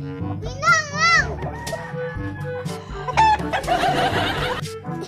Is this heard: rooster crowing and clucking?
yes